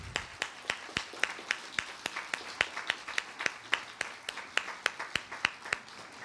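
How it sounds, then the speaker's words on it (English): An audience at a Juneteenth community reading of Frederick Douglass applauds the readers, but only a few pairs of hands are heard, with sharp, evenly spaced claps close by and little crowd noise. "Please give our readers a round of applause."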